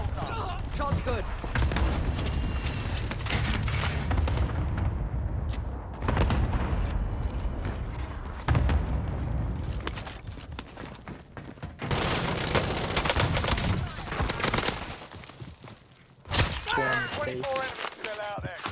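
Rapid automatic rifle fire from the KRIG 6 assault rifle in Call of Duty, Season 4 multiplayer: repeated loud bursts with booms and impacts, under excited player talk.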